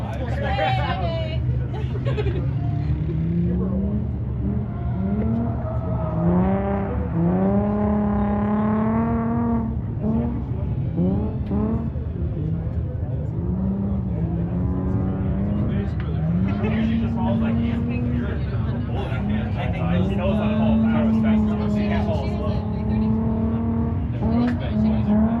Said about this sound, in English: Michelle following Charlie in the BMW, doing everything she could to keep up with that monster in a BMW that's powered by a BMW